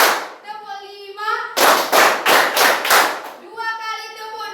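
A group of people clap in counted bursts, about five quick loud claps in a row, with a voice calling out counts before and after in a classroom.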